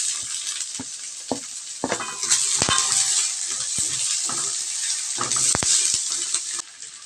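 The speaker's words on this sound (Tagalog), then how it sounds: "Pag brown na yung bawang, ilagay na natin yung sibuyas." Onions sizzle in hot oil with browned garlic while a utensil clinks and scrapes against the pan in scattered knocks, a steady moderate frying hiss running underneath, no voices.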